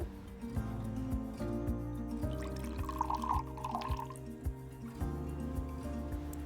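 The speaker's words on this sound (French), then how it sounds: "jetez la moitié du mélange d'eau et de poudre pour ne garder que 75 ml" Half of a Dukoral vaccine mixture of water and powder poured away, a light trickle and drip of liquid running out steadily for several seconds, close and quiet, with faint background tones and no talking.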